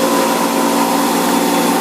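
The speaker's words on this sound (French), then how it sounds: "Je vais brancher le compresseur." An air compressor, used in a carburetor-cleaning job, runs at a steady, loud, continuous motor drone with a constant hum and no pauses.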